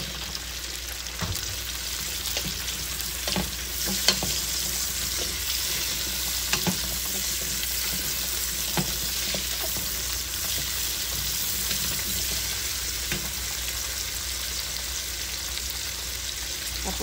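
Squash pieces sizzle in a hot frying pan for a vegetable stir-fry, a steady close-up crackle with intermittent stirring scrapes and clinks throughout, no voices.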